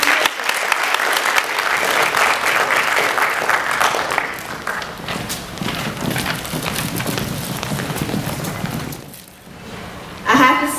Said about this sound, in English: One more round of applause for Veteran Memorial.